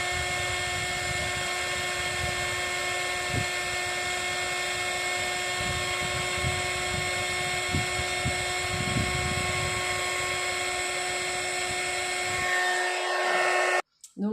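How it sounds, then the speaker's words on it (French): Heat gun blowing hot air to melt embossing powder on a card, a steady loud whirring hiss with a constant pitch that runs on without a break, then cuts off abruptly near the end. "Et je viens chauffer ça avec le heat gun."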